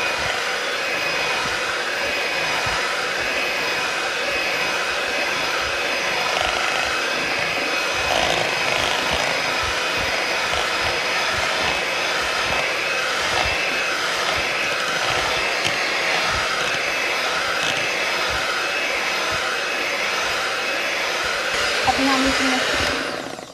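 Electric mixer whirring steadily through chocolate muffin batter as milk is added little by little, a continuous close motor drone with no pauses across the whole stretch.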